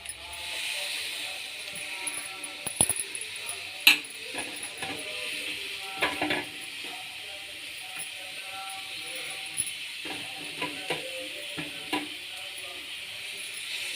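Coriander fries in a pan with a steady, moderate sizzle, broken by occasional clinks and scrapes of a utensil stirring against the metal, heard up close.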